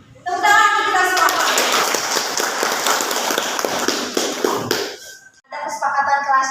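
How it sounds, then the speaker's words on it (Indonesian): A classroom group claps and applauds for several seconds, loud and steady, with voices speaking briefly before and after. "Tepuk tangan untuk kita semua."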